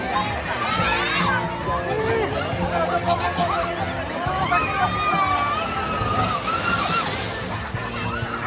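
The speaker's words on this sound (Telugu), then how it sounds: "స్ప్లాష్ లాగా పడుతుంది వాటర్ ఇప్పుడు" Water pouring and splashing down at the BluThunder waterpark in Bibinagar, Hyderabad, a loud continuous rushing slosh with crowd babble and voices mixed in throughout.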